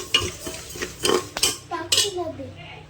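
Dry moong dal, 200 grams, stirred around inside a pressure cooker, with scraping and clinking of a spoon against the metal in irregular bursts, some louder knocks, and faint talk in the background.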